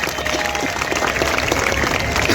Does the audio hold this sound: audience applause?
yes